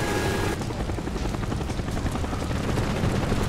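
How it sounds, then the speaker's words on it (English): A counter spy plane flies overhead in the Black Ops 1 multiplayer game, a loud steady rotor-like aircraft drone that fills the whole stretch without a break. "Our counter spy plane's in the air."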